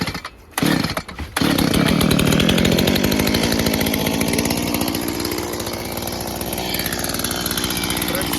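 A STIHL MS 170 chainsaw, new in 2022, is pulled a couple of times, then catches and runs loudly and continuously, its two-stroke engine settling toward idle.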